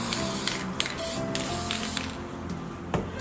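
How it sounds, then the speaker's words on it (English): Copper-colored spray paint hisses steadily from a can onto a wooden Christmas urn in a near, continuous rush, broken by a few brief pauses and small clicks of the nozzle. "I'm going to use like a coppery color and just spray the part of the wood that's going to be exposed"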